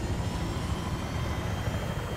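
A jet aircraft engine in Battlefield 3 on the Caspian Border map makes a steady, loud roar with a broad rushing hiss that stays constant throughout, with no voices over it.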